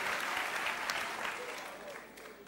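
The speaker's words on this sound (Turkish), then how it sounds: "Alkışlar da onları da yerlerine alalım." Studio audience at a Turkish television talk show breaking into applause, a dense steady clapping close by that gradually fades over a couple of seconds.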